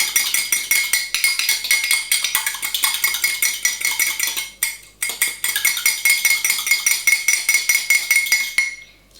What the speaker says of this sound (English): You whisk your egg yolk with the iced water.